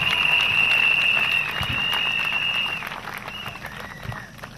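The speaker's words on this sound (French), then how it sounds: "Clap for Jesus." A crusade congregation claps and cheers for Jesus in a large, loud, sustained wash of applause with crowd noise, thinning slightly toward the end.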